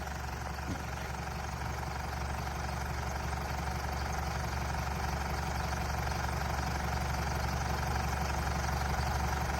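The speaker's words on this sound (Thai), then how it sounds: "ฟังเสียงมุมมองภายนอกครับ ฟังด้านในแล้วก็ลองฟังนอกทีหนึ่งนะครับ" A 2012 Isuzu MU-7 3.0 VGS Turbo diesel idles steadily, heard from outside the vehicle, as a low, even rumble with a faint knocking texture and no voices.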